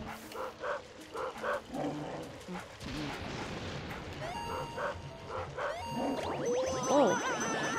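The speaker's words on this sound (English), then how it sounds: "Piss off, dog!" Dog barking in the Luigi's Mansion video game, several sharp barks in bursts over game music and sound effects, with someone talking over it.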